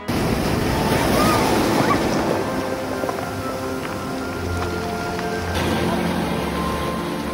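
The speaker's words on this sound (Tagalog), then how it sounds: "Sarap kasi talaga pakinggan yung nagkiskisang mga bato habang hinahampas ng alon." Waves wash onto a pebble beach at sunset, a continuous loud surf rush with grinding stones and some wind buffeting the microphone, with no talking.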